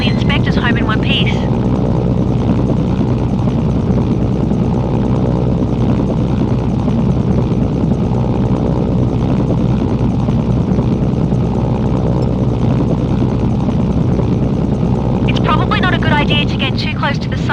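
Helicopter in Mercenaries: Playground of Destruction: a loud, continuous rotor and engine drone holds steady throughout, with a voice talking over it.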